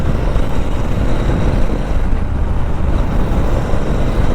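A Royal Enfield motorcycle with spacers newly fitted in its front forks rides along. A loud, steady engine drone blends with rushing wind and road noise and never lets up.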